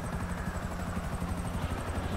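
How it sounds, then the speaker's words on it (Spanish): A helicopter in the video game GTA 5 Online gives off a steady, close, throbbing rotor drone with a low pulsing beat and an engine whine, running evenly throughout with no talk. "Y ahí se sale con el helicóptero."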